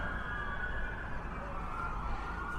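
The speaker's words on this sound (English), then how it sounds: "Oh, it's an ambulance." An ambulance siren passing at speed through a residential area, a steady wailing tone sounding fairly faint and distant over a broad background hiss, continuous throughout.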